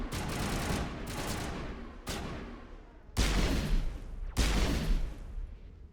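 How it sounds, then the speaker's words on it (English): Sustained bursts of gunfire from the video game Mass Effect Legendary Edition, rapid and loud, coming in several waves with short gaps and heavy low-end thumps on the later volleys. "Gonna shoot all of this down."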